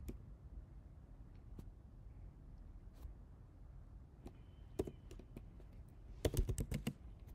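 Typing on a computer keyboard while working through a Kubernetes exam task, sparse single key clicks at first, then a quick burst of several keystrokes near the end, faint and close.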